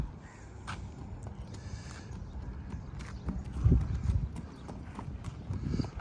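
A horse being walked down and back in an air-conditioned barn in Dubai, its shod hooves giving faint, uneven clip-clops over a low background hum.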